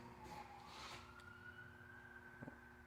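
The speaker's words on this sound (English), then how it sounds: "if it's not an ambulance, it's a cop car or fire truck" An emergency vehicle siren wails in the distance, faint and steady with a slowly rising tone, under low background noise.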